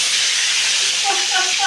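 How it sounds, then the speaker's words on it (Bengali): A rohu fish head frying crisp in hot oil gives off a steady, loud hiss with bubbling close by, a faint voice or tone rising near the end. "মাছের মাথাটা দেখেন পুরো মশমশে করে ভেজে ফেলেছি"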